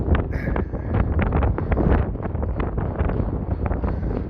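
Strong wind gusts roar and buffet across a seaside promenade in Blackpool on a grey day, a loud, continuous rumble of wind noise pressing on the microphone throughout.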